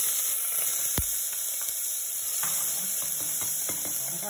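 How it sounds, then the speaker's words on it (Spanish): Chopped onion hits half a cup of hot oil in a pre-heated pot and sizzles loudly and continuously, with a sharp spoon clack and stirring scrapes and no talking. "Voy a poner media copa de aceite y vamos a poner la cebolla."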